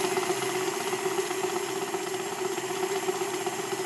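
An electric mixer beats egg, sugar and soft butter in a bowl, running at higher speed with a steady, close, continuous whirring hum and no talk.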